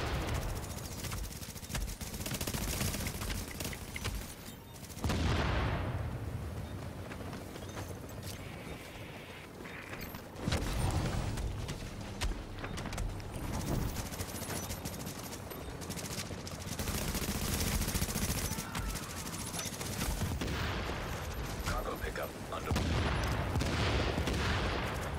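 Gunfire in the Tom Clancy's The Division video game, dense bursts of automatic fire and shots coming in waves across the whole stretch, loud and cluttered with brief lulls between flurries.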